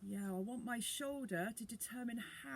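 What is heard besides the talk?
No everyday noises stand out.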